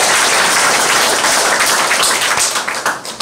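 Loud, dense applause from a church congregation at a 20th anniversary service, a steady wash of many hands clapping that thins slightly toward the end.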